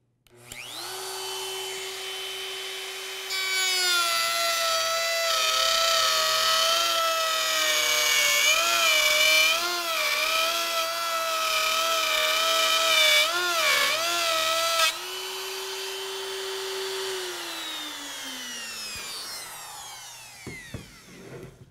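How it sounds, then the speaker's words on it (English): A handheld router cuts a dado groove in a wooden board, a loud, close, steady high-pitched whine that spools up, holds under load for about ten seconds with wavering pitch as the bit cuts, then winds down. "And then we'll set up and route our first dado."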